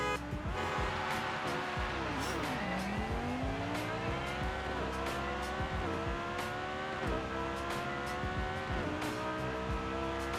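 A 1200 horsepower twin-turbo Lamborghini street racing in Forza Horizon, engine loudly revving up and down through gear shifts with repeated sharp shift pops and tire squeal, continuous and close.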